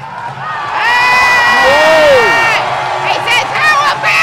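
A crowd at the IPF World Classic Powerlifting Championship cheers and claps loudly and steadily, with shouts and whistle-like whoops rising over the continuous roar throughout.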